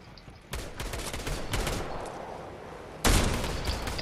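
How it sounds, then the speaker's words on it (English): Gunfire in a Fortnite match: a dense run of rapid shots begins about half a second in and crackles on steadily, then a louder, closer burst hits near the three-second mark and keeps going to the end. "I'm getting shot at"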